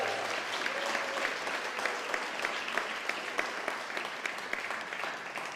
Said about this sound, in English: How about giving a big round of applause for them as well?